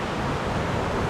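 Gushing, overflowing waterfall on the Falls Trail at Ricketts Glen, Pennsylvania, a steady broadband roar of rushing water filling the brief moment without pause, close and fairly loud.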